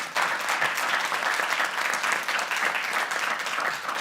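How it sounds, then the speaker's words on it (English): An audience at a corporate product preview event claps for a panel member, a dense, even burst of applause that starts abruptly and holds steady throughout. "Let's give him a round of applause."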